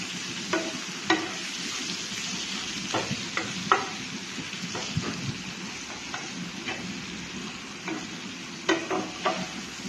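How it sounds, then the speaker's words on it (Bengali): Spices with turmeric and cumin powder stirred and fried in a pan with tomato while greens (kochu shak) are cooked, a steady soft sizzle broken by repeated scraping strokes of the spoon, close and fairly quiet. "মশলাটাকে একটু নাড়তে হবে।"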